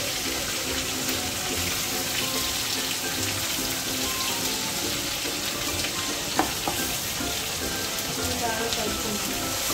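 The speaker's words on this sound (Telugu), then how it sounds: "ఉల్లిగడ్డ అన్నది పచ్చివాసన పోయేటట్టు బాగా వేయించుకోవాలి" Onion paste ground with cardamom, cloves and cinnamon fries in a pan for chicken curry, giving a steady close sizzle with occasional stirring knocks.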